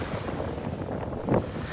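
Big ocean waves breaking far out over rock ledges at low tide along the Hutchinson Island shore, a continuous distant roar mixed with wind buffeting the microphone and one slightly louder surge near the end.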